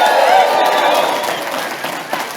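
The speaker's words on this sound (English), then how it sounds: "I want to hear you guys clap and cheer and hoot and holler" A live audience at the AgEx 2022 farm event bursts into loud clapping and cheering on cue, a dense wash of applause that holds strong and then tapers slightly toward the end.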